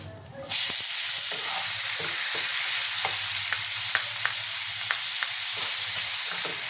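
Chopped tomato and onion with whole cumin hit hot oil in a pan, bursting into a loud, steady sizzle, with repeated scrapes and knocks of a spatula stirring throughout.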